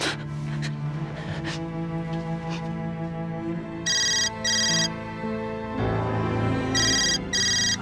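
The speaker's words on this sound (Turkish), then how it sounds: "Annem telefon değil mi" A telephone rings with a melodic ringtone, loud and close, its tone repeating in short bursts over a sustained musical background in a domestic drama scene, with no talk.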